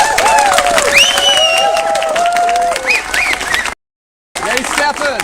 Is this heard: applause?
yes